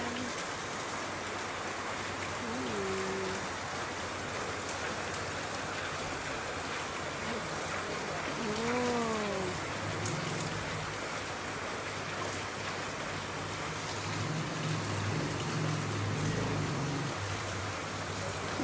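Steady rain falls during a typhoon, a soft continuous hiss of drops on surfaces, faint and even throughout, with a few brief distant chirping calls in the background.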